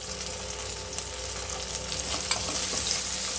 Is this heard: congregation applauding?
no